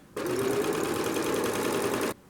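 A sewing machine runs steadily for about two seconds, stitching a seam while patching fabric, a close, even mechanical whir that starts and stops abruptly with no talking.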